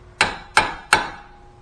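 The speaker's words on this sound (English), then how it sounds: "All else fails, you break out the hammer." Three hard hammer blows on a Borg Warner K27 turbo part from a 6.9 International diesel engine, in steady succession, loud and close, each with a short ringing metallic decay.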